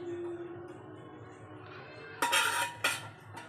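A non-stick pan set down on a stove for frying fish makes two close metallic clanks near the end, following a quiet stretch of low background hum.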